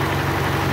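A tractor engine idles close by, a steady low rumble with faint vibration and no talk over it.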